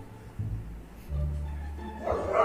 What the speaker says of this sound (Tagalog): aba matindi itong aso na to